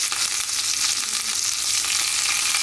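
Mustard seeds, sesame seeds, green chili and curry leaves sizzle in hot oil for a tadka, a steady close crackling hiss with no talk over it.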